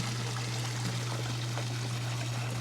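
Water pours steadily from a pump's outlet crusted with ice on a frigid Florida swamp property, a constant broadband rush with no breaks, alone and fairly close.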